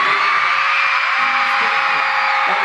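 A concert crowd in Kansas City screams and cheers loudly and continuously, a dense sustained roar of many voices with whoops rising above it throughout.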